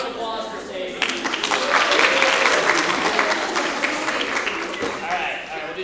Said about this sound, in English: Round of applause for Sadie.